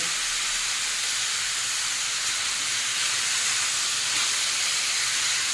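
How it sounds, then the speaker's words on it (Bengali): Soaked split chickpeas (chana dal) fry in a pan, giving a steady, even hiss of sizzling oil that runs unbroken throughout. "ছোলার ডালটাকে একটু সময় নিয়ে ভাজতে হবে"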